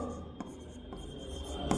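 Short scratchy strokes of writing on a board, a soft rubbing texture with a few sharper taps, close and fairly quiet.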